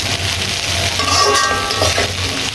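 Bitter gourd frying in a pan with salt, a bright, dense sizzle with quick stirring scrapes and a light metallic clink, close and steady throughout.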